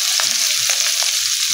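Spring onions fry in hot oil in a pan, cooked for a tilapia fish dish, giving a loud, constant close-up sizzle with a few soft stirring knocks.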